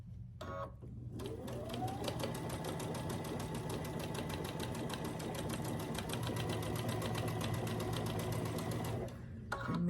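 A sewing machine stitches scrappy quilt pieces with a quarter-inch seam, a steady, even whir of fast stitching that runs almost unbroken, with a soft click at each end.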